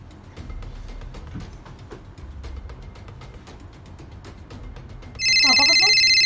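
A telephone rings loudly near the end after a call is dialed, a sudden electronic ringtone breaking over indistinct room noise and faint background sounds.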